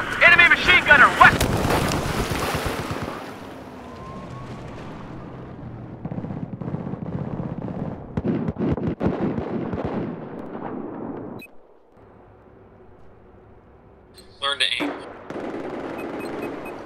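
Bursts of automatic machine gun fire in the video game Battlefield 4, loud and dense over wind and ambient battle noise, with players talking over the action, then thinning into scattered shots and a brief sharp burst near the end.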